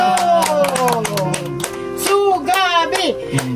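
An audience claps in scattered bursts beneath loud voices and melodic, sung-sounding tones, with the clapping mixed into the talk rather than standing alone.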